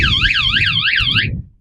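Anti-theft alarm fitted to a camper van blaring up close in rapid, rhythmic warbling sweeps, then cutting off abruptly after about a second and a half.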